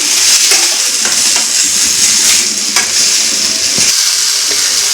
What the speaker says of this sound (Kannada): ಈ ಮೆಣಸಿಕಾಯಿ ಕೂಡ ಹಾಕ್ತಿದ್ದೀನಿ ಇದು ಇವಾಗ ಸ್ವಲ್ಪ ಫ್ರೈ ಮಾಡ್ಕೋಬೇಕು